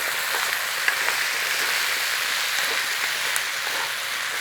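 Garlic frying in a single pan for a chicken dinner, a steady soft sizzle with a few faint pops and stirring ticks, close and even throughout.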